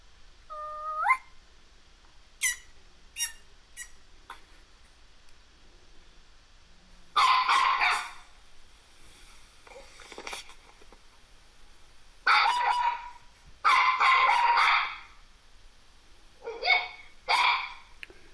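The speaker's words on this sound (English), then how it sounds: "Bark again." A puppy yaps in several short, bright bursts spread across the clip, some clustered in quick pairs, fairly close and alone without talk; a few thin high chirps at the start may come from a nearby rooster or fowl.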